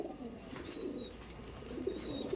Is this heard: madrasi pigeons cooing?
yes